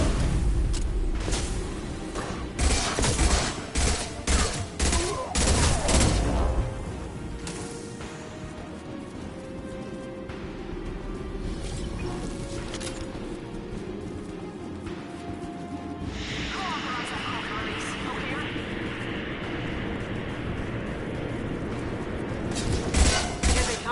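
Gunfire from the Mass Effect video game, with bursts of broadband shots clustered early and again at the end, mixed with game effects and a steady ambient bed in between.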